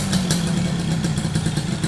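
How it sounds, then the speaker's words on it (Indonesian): A 1997 Yamaha F1ZR two-stroke motorcycle engine runs steadily at idle nearby, a continuous buzzing, slightly clattery drone with a low pulsing hum and no voices. "Iki suara mesine kaya ngene iki, penak sekali pancal langsung murup majreng ya to."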